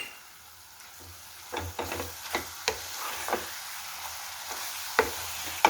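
A spoon stirs a coconut sweet laddu mixture with milk powder in a pan on the stove. Soft scrapes and taps come at an uneven pace over a faint, low sizzle, close and quiet.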